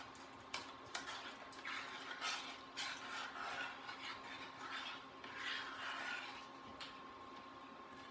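Spoon stirring crème fraîche into mushroom velouté in a pot, faint scraping and light clinks against the pan under a steady background hum.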